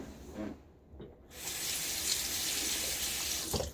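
A bathroom tap runs steadily into a sink for a rinse after a wet shave with a Blackland Dart safety razor, a continuous close hiss of flowing water following a few brief handling noises.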